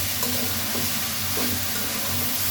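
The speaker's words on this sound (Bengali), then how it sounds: "এটা ভালো করে কষিয়ে নিব আমি।" Turmeric and coriander powder fry in a pan with oil, giving a steady, close sizzle with soft stirring scrapes throughout and no voices.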